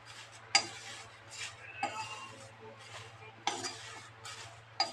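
Food fries gently on a low flame in a pan, with a faint, soft sizzle broken by several sharp clinks and scrapes of a utensil stirring against the pan.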